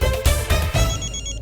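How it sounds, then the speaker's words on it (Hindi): A telephone rings in a domestic setting, its repeated electronic bell tones loud and close, sounding alone over a low background hum for a short burst. "एक मिनट, भाई साहब का फोन है।"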